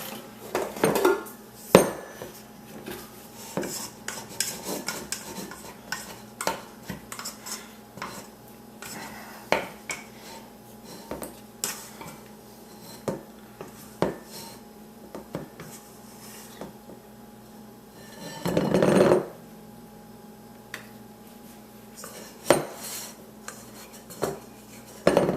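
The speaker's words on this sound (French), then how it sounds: "Nettoyer le bol." A mixer bowl being cleaned out gives a busy run of close metallic scrapes and clinks of utensils against the bowl, with irregular knocks and one longer rattling scrape partway through.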